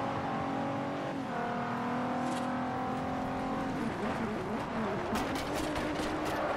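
Car engine in the Forza Horizon racing video game, droning and revving with steady shifting pitch, then a rougher burst with tire noise near the end, loud and continuous with no talk.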